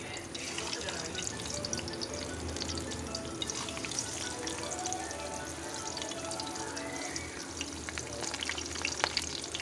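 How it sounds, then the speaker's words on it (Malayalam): Banana fritters (kayadi) frying in a pan of hot oil, a dense, continuous crackling sizzle with scattered sharp pops throughout, close and fairly loud with no talking over it. "ഒരു പാനിൽ എണ്ണ വെച്ചിട്ടുണ്ട്, അത് ചൂടായി കഴിഞ്ഞാൽ നമുക്കിതിലേക്ക് ഓരോ കായടി ഇട്ട് കൊടുക്കാം"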